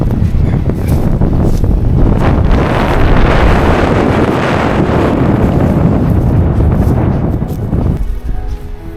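Strong wind on an exposed hike in Arctic Norway, loud roaring gusts buffeting the microphone almost continuously, easing slightly near the end.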